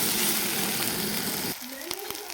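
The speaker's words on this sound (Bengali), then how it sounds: "এর মধ্যে দিয়ে দেবো আমি একটা ডিম, ডিমটাকে ভালোভাবে ভাজিয়ে নেব।" A single egg fries in a pan of hot oil with turmeric and cumin powder for an egg and potato bharta, a loud close sizzle that drops suddenly, then softer crackling with faint scraping.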